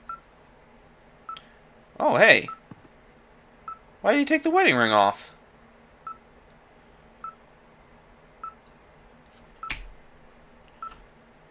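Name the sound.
wave receiver beeping in the video game Firewatch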